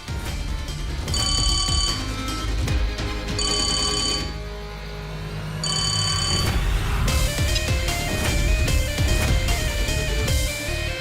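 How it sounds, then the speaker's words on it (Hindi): An old-style telephone bell rings loudly in repeated bursts with short gaps between, over dramatic background music in a Hindi TV serial scene. "फोन उठा राजीव, फोन उठा।"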